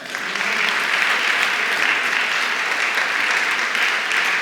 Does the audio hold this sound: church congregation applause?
yes